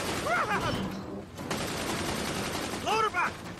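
Gunner's gunfire in Tales from the Borderlands, a continuous rattling burst of shots running throughout alongside game sounds, with a voice speaking over it.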